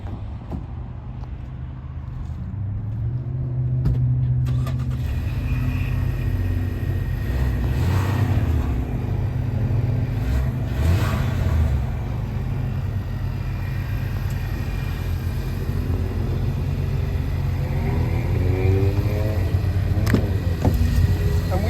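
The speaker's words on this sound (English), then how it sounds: "let's start up this biggest in-class Bronco Sport engine, this 2-liter EcoBoost" A 2025 Ford Bronco Sport Badlands 2.0L EcoBoost turbo engine cranks and settles into a steady idle, then rises in a few revs, loud and close, with a low constant rumble throughout.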